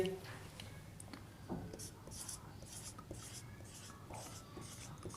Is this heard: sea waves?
no